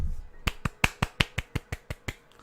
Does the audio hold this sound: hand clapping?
yes